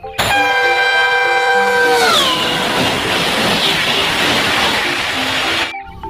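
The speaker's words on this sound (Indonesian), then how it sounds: "Di sini ada kereta cepat." A toy high-speed train plays a loud multi-tone horn that bends downward, followed by a steady rushing rail rumble that cuts off abruptly.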